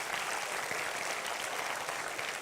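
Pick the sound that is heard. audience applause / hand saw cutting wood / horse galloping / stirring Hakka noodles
audience applause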